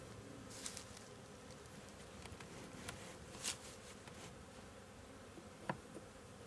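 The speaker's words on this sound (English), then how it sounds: "You'll notice the bees are coming out of the nucleus colony" Honey bees flying out of a nucleus colony newly set into a BMAX hive, a soft steady buzzing hum with a few nearer bees passing close, all fairly faint.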